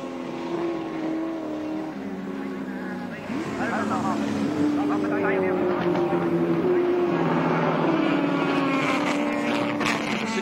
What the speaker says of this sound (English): Moffat again pulls out of the slipstream and covers Brock down the straight